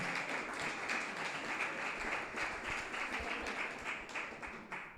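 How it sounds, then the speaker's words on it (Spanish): An audience at a talk on printed books and photography breaks into steady applause, a dense, even patter of many hands clapping together, fairly faint and sustained throughout. "Un aplauso"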